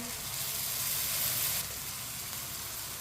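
Chopped tomato tipped into a pan of lightly browned onions, setting off a loud, steady close sizzle and hiss that flares brighter for the first second and a half, then settles into continuous frying, no voices.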